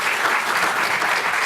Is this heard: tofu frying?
no